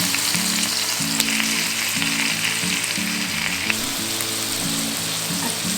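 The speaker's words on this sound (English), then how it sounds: "I need the wok to fry the fish" Fish frying in plenty of oil in a wok, a steady, loud, close sizzle and crackle that runs continuously with no talk.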